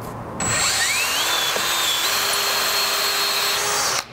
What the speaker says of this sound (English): Okay, so now we're gonna drill the top holes.